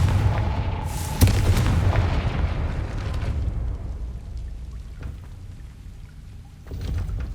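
Confringo fire spell explosion in Hogwarts Legacy, a sharp loud boom followed by a crackling, rain-like rush of debris that fades over several seconds, with a smaller burst near the end.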